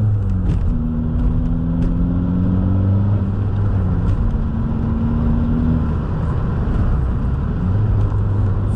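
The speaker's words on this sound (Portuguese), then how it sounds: "vamos encher aqui o turbo" A Cupra TDI diesel car engine revs up to build turbo boost, producing a loud, steady rumbling drone with rising and falling tonal sweeps that hold continuously throughout.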